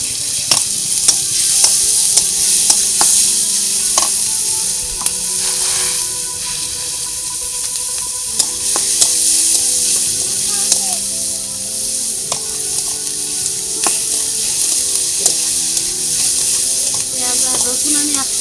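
Garlic paste fries in a pan with a continuous bright sizzle, punctuated by sharp clicks and scrapes of stirring, close and fairly loud.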